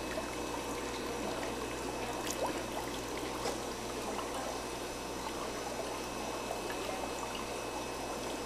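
Water pours steadily into a crayfish tank on a Philippine farm, giving a continuous soft trickling stream with no pauses.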